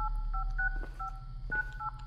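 Touch-tone phone dialing in a Krampus horror video game, a series of short two-tone DTMF beeps in irregular bursts, close and clear with no one talking.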